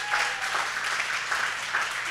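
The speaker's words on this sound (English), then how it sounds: "Give me a big round of applause, please." An audience at a food and culinary evening applauds warmly, a steady, even patter of many hands clapping throughout.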